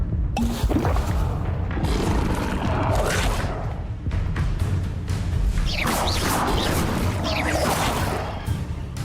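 Repeated Incendio fire spells cast in Hogwarts Legacy combat, a loud, dense run of whooshing flame bursts, crashes and booms that follow one another without pause, with no voices.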